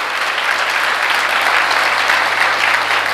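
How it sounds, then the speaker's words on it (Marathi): A large audience claps loudly and steadily at a religious discourse, a dense and even burst of applause with no voices over it. "एकदा जोरदार टाळ्या झाल्या पाहिजे."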